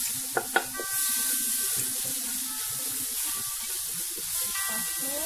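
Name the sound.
chili paste sizzling while sautéing in a pan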